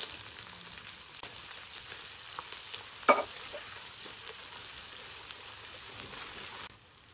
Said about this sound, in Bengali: তারপর পেঁয়াজ দিচ্ছি আমি এখানে 1 কাপ।